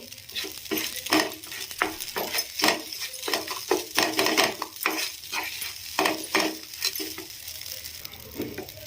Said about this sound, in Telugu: ఇది ఇలా ఫ్రై అయ్యేటప్పుడే రుచికి సరిపడా సాల్ట్ని కూడా యాడ్ చేసుకోవాలి